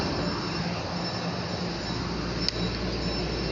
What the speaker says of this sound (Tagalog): Nasa tren po kami, nasa tren.